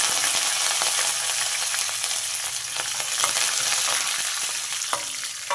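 Dried red chillies, crushed garlic cloves and curry leaves fry in hot oil, a continuous close sizzle broken by scattered crackles and pops, with no voices.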